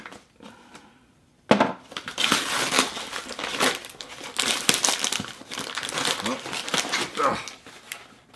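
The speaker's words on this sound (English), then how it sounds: "I'm gonna use the world's dullest knife to cut the world's strongest tape." A dull knife cuts through very strong packing tape to open the box of an EnGenius EWS357AP Wi-Fi 6 access point, making close scraping, crinkling and tearing noises in uneven rough bursts after a short quiet start, while someone talks.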